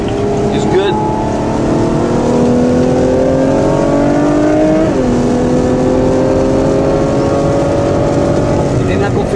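A 2014 Ferrari FF engine on a race track, loud rising revs through the gears, pitch climbing, dropping sharply at an upshift midway, then climbing again, with talk faintly underneath.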